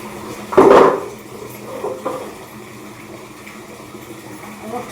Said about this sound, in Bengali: চলো তাড়াতাড়ি করে এসব ধোয়াধুয়ি করে নিয়ে বাসনটা মেজে নিই।